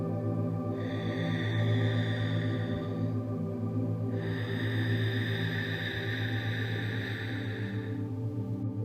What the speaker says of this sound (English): exhaling and inhaling with that soft constriction at the back of your throat